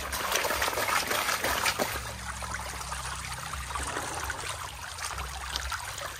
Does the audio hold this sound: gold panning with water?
yes